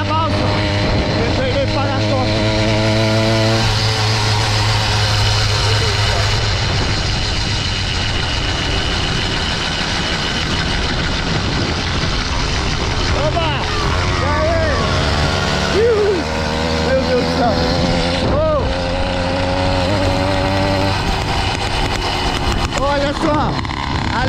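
Motorcycles revving and accelerating together on a road ride toward a ferry, a loud continuous engine drone with rising and falling tones under excited shouting voices throughout.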